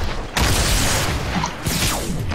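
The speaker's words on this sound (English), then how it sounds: "Oh, rocket." A loud, close rocket blast in a video game, a sudden boom followed by a rumbling, crackling tail and a second burst, with no speech.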